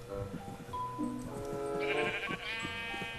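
A sheep in Minecraft gives a few wavering bleats close by, loud and drawn out, with some game sounds mixed in underneath.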